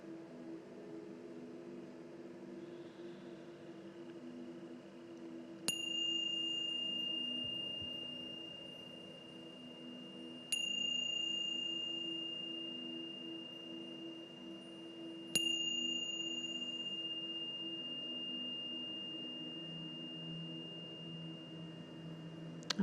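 Meditation bells ring three times during a group evening meditation, each strike sharp and clear with a long sustained shimmering tone that fades slowly over a steady low background hum.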